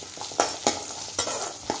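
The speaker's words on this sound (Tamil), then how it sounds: "தேங்காயும் வதக்கணும்" Ground coconut and spices sauteing in a pan for Madurai-style chicken kulambu, a soft sizzle under four quick scraping stirs of a spoon, near and fairly quiet.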